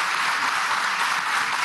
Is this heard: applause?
yes